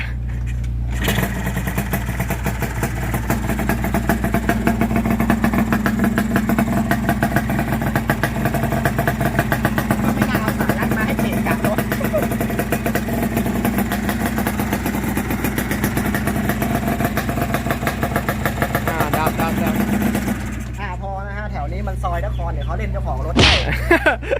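A VR150 motorcycle with a smoky two-stroke engine idles loudly and steadily for about twenty seconds, then cuts off, leaving brief faint background noise and a voice.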